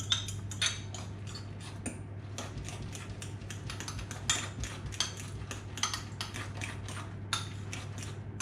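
A utensil clinks and scrapes against a bowl while an egg is mixed into a pizza base, with quick, rhythmic, fairly quiet taps and no talking.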